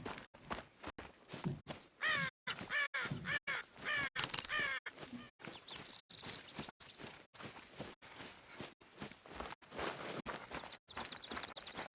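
A crow caws repeatedly in theHunter: Call of the Wild, with harsh calls in a broken rhythm over a quiet outdoor game setting with faint thumping steps, and nobody speaking.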